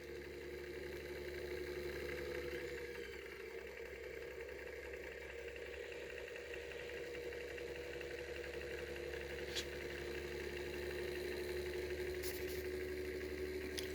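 A 3D printed pulse motor runs steadily on its circuit, giving a continuous even hum with a faint mechanical whir, unchanging and close, with a few small ticks near the end and no voices.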